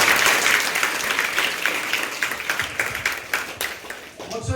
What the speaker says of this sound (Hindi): चलो पहले इस स्कूल की आप मेल लीडर के लिए ताली बजाइए।